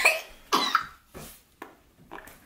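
Several harsh coughs in quick succession, close by, each burst trailing off before the next, with short pauses between.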